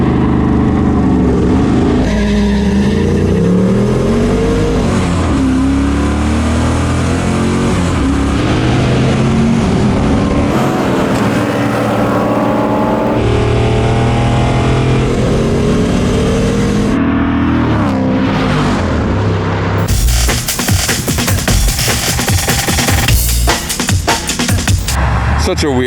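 A 6.4L Hemi Jeep and an LS-swapped car drag race, with loud engine revving and roaring acceleration that builds to a harsh, full-throttle blast near the end.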